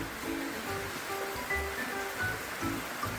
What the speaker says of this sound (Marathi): दुपारपासून मस्त पाऊस चाललाय आणि लयच पाऊस चाललाय